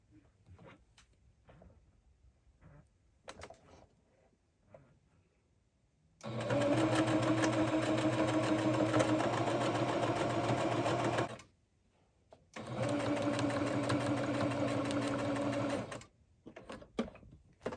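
A sewing machine stitches appliqué fabric onto a pillow in two long continuous runs with a brief pause between, steady mechanical whirring close by, framed by quiet handling sounds before and after.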